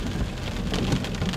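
Heavy rain drums steadily on a car during a driving lesson, a dense continuous patter with no speech over it.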